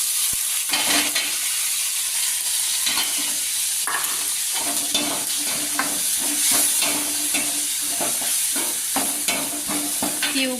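Green fenugreek leaves hit a pan of frying garlic and tomato and sizzle steadily close up, with repeated stirring scrapes and clinks throughout.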